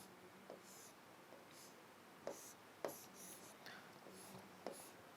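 A marker scratches across a board in short strokes while a physics problem is drawn out, the faint squeaks and taps coming close and quiet with soft breathy sounds between.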